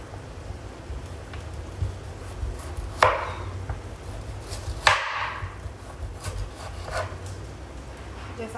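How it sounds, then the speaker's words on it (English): A knife cutting a large potato on a board, giving a few distinct chops spaced a couple of seconds apart against low background noise, while a person talks. "So I'm just going to cut these up like that,"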